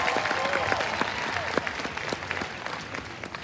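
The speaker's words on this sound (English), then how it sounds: "We get another round of applause for Mr." Graduation ceremony audience applauding a student, dense continuous clapping from a large crowd with scattered louder individual claps, no talk over it.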